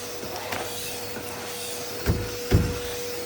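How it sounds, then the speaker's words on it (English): A vacuum cleaner runs on bedroom carpet with a steady whirring hum, broken by a couple of sharp knocks and bumps near the end as it is pushed about, with no talking. "this vacuum is not picking this up"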